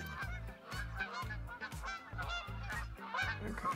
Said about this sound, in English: Bean geese.